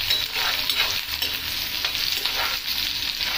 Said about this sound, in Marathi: आणि आता कांदे गोल्डन ब्राऊन होईपर्यंत आपल्याला हे परतायचं.